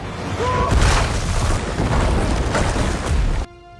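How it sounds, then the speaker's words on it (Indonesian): A loud, rumbling bazooka explosion hitting a building roars and reverberates for several seconds, then cuts off abruptly. "menembak bangunan itu dengan bazooka"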